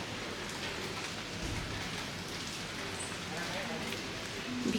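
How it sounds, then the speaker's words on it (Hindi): Steady rain falling outside a balcony in Kerala, a soft continuous hiss of drops with faint patter, heard under someone speaking nearby. "वैसे बारिश हो रहा है बाहर पूरा."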